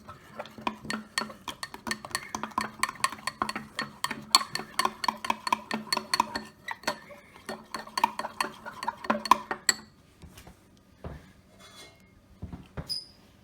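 A spoon stirs protein powder into a little cold milk in a cup, making rapid rhythmic scraping clinks for about ten seconds. A few scattered taps follow, with no talking.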